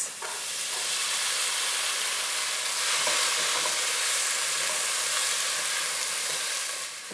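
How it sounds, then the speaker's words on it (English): Onions, ginger and garlic saute in hot oil, giving a continuous bright sizzling hiss at moderate level from start to finish, with no voices over it. "The onions, ginger and garlic have been sauteing in the oil"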